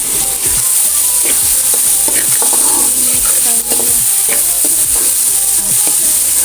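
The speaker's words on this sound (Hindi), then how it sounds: "इसमें मैं अब थोड़ी सी दाल डालूंगी, चने की दाल है" Boiled chana dal is stirred into fried onions and tomatoes for karela dal, and the pan gives a loud, constant sizzle with scraping and stirring clatter. No one speaks.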